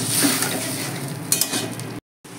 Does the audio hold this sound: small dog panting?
no